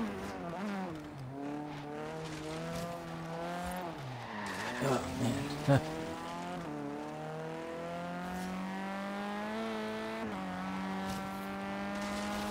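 Racing-game car engine from Forza Horizon 3, a BAC Mono or Bentley Continental GT, revs steadily with shifting pitch and sliding tire squeal, loud and continuous, while someone talks briefly over it.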